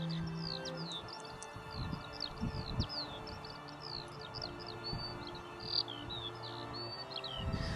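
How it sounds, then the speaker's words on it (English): Skylark song drifts in from a distance over summer footpaths: rapid, high, twittering notes that run on steadily over a soft outdoor hum of insects. "the skylark, whose distinctive song is the sound of summer"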